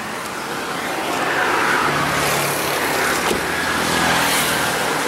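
A parked car's engine left idling with its door open, a steady low running hum with broadband road noise, fairly loud and constant.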